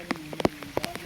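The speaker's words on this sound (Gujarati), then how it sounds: "વરસાદ લાગી ગયો" Rain falls outdoors in a village during training exercises, a handful of close, uneven drops pattering and tapping on a hard surface over a brief moment.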